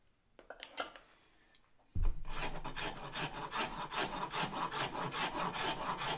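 A big coarse horseshoe rasp files wood while shaping a tool haft, starting with a few light taps and scrapes, then a loud, close, rhythmic back-and-forth rasping in quick regular strokes.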